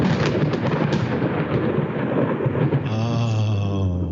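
A thunderstorm sound effect plays with a loud, continuous rumble of thunder and steady rain, the roll shifting into a lower, steadier growl near the end.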